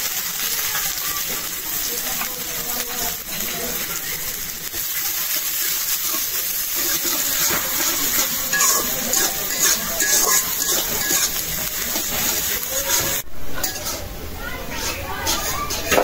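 Onions frying in mustard oil in a wok, a continuous bright hiss and sizzle with occasional clinks of a utensil against the metal, close and fairly loud throughout.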